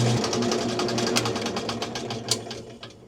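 A power tool blade slowly cutting through material for a custom toilet paper dispenser, giving a steady, close buzzing drone with faint rhythmic ticks throughout.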